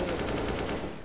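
Gunfire in a Counter-Strike-style shooter video game, a rapid, dense burst of automatic shots that rattles continuously and loudly for about a second.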